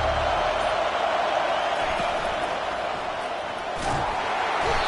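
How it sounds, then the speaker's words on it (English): A roaring stadium crowd in the College Football 25 video game, Nebraska against Boise State, holds a dense, constant wall of noise from start to finish, swelling slightly near the end. "Listen to the crowd energy here in the early going."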